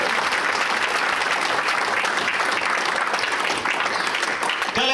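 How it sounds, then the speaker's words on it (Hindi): Sustained applause from a seminar audience at a business training program in a Lucknow hotel, steady dense clapping filling the room throughout. "तालियां बजनी चाहिए।"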